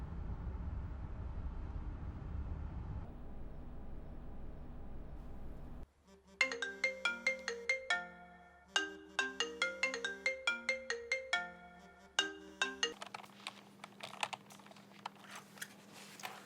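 An electronic phone ringtone plays a repeating, plinking melody of bright notes after a low rumbling hum, ringing clearly and fairly loud.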